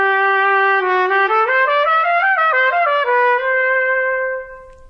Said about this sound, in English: When you put the mouthpiece into the trumpet, it sounds like this.